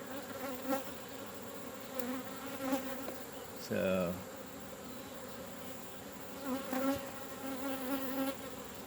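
Honeybees buzz steadily close by around an open hive, a dense droning hum with swelling and fading pitches as individual insects pass near.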